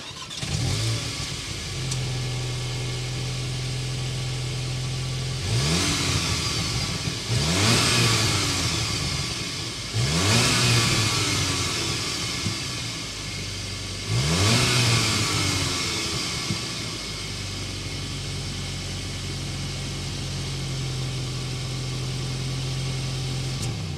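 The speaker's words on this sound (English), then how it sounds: "start it up so we can hear that exhaust note" A 2022 Volkswagen Arteon R-line with a turbocharged engine sits idling with a steady low hum, then revs sharply four times in separate bursts before settling back to a smooth idle, heard close and loud with no talking.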